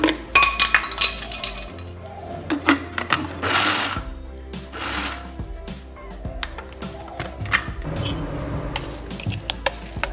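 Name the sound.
mixer grinder briefly pulsing coconut sambol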